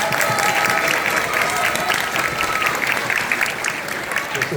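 Audience applause fills a middle school 6th grade band concert, a steady, dense wash of clapping from a full room that holds evenly for several seconds.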